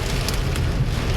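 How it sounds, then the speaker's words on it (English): Small hail pattering on a car during a Fort Worth, Texas storm, a dense steady rain-like rattle close by with a few sharper ticks of individual hits. "I heard a couple of hits on my car."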